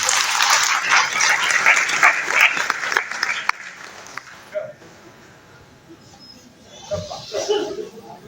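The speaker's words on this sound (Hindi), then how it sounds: "आदरणीय संजय प्रकाश जी के लिए जोरदार तालियों से स्वागत किया जाए।" Audience applause welcoming a speaker at a public meeting of activists, dense clapping for several seconds then thinning into scattered claps, with some voices mixed in.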